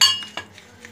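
A spoon mixes sugar with half a spoon of cinnamon powder on a plate, giving a few light scrapes and soft clinks in quick succession, close and fairly quiet.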